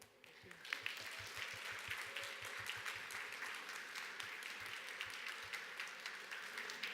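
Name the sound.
audience applause welcoming a speaker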